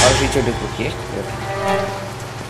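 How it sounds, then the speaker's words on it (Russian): Rain falls steadily in a Minecraft village, a constant broadband hiss at fairly loud level, with someone speaking over it. "Вот это зловещий дождь."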